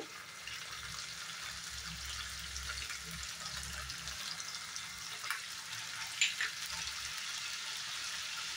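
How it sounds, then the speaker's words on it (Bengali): Garlic and cashew paste going into a hot pan for drumstick curry, a steady close hiss of sizzling oil running throughout, with a faint low rumble early on and a couple of small clinks near the end. "এখন আমি রসুন আর কাজু বাটাটা দিয়ে দেব।"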